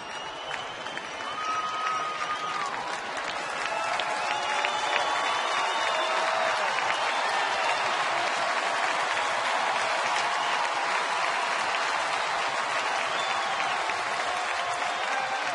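Large crowd at a sunny afternoon baseball game in Atlanta applauding, a broad continuous wash of clapping that swells after a few seconds and holds steady and loud.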